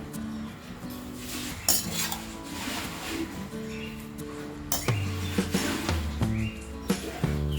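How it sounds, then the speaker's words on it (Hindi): A metal utensil clinks and scrapes against a pan while chopped cabbage is mixed for a Gujarati-style cabbage sabzi, with repeated sharp taps over a steady bed of background music. "इसमें बाकी सारा पत्ता गोभी भी डाल देंगे, मिक्स कर देते हैं"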